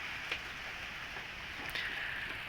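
Rain falling around a goat pen in the rainy season, a steady soft hiss of drops with a few faint taps, quiet and even with no talking.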